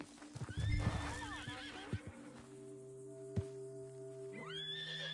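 A horse in Red Dead Redemption 2 gives a loud, close whinny near the start, with hoof clip-clops and soft game ambience continuing afterward, no talking.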